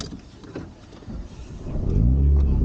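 A Renault Megane RS Trophy engine cranks and fires up on a track, swelling into a loud, steady idle rumble near the end, with brief talk inside the car before it catches.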